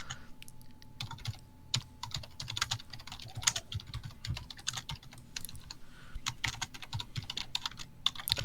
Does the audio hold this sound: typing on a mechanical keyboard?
yes